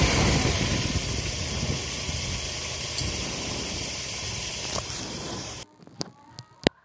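A Toyota Kijang carburetor engine idles with a steady broadband rumble for several seconds, then drops off, followed by a few sharp close clicks or pops.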